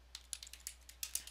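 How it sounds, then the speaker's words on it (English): Soft, quick keystrokes on a computer keyboard while a chart title is typed, around a dozen light clicks in a rapid, slightly uneven rhythm with no voice. "Select the chart title and we are going to type estimated"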